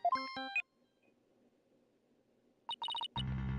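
Electronic phone ring and beeping tones from the Ace Attorney Dual Destinies video game, a short burst of chirps, then near silence, then a rapid series of beeps and a musical sting, clean and alone.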